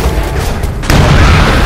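A bomb goes off in the video game Alien Swarm, a loud, sudden booming blast that sets in partway through and rumbles on heavily amid dense game noise.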